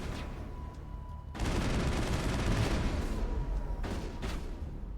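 Grenade blast in the video game Mass Effect, a sudden loud burst of noisy explosion that cuts in abruptly and rumbles on with crackling debris, followed by a couple of further sharp bursts.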